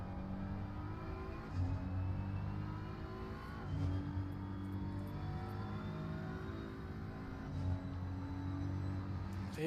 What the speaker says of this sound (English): Hearing from the noise, I think the BMW just let Leung pass by.